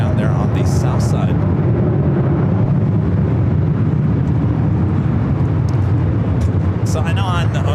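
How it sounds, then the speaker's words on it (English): A Virgin Airbus A350-1000 jet arriving from London Heathrow touches down on the south side at LAX, a loud, steady roar of engines and rushing air that holds throughout, with voices over it. "Virgin, the A350-1000 Flight 7 coming in from London Heathrow, touching down there on the south side"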